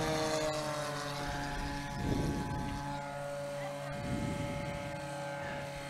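Wild West Aircraft STOL plane from Nampa, Idaho, at a Sodbusters National STOL Series short takeoff and landing competition in Brainerd. Its propeller engine gives a steady, moderately distant drone that swells twice as it passes.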